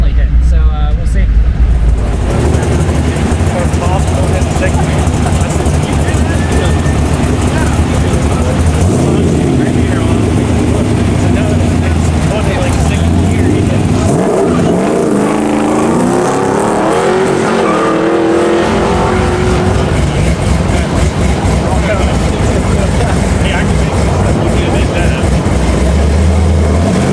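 A C5 Corvette roars through a drag racing run at a Texas LS Fest event, loud sustained engine noise with rising and shifting revs and brief tire squeal, heard up close throughout with voices mixed in.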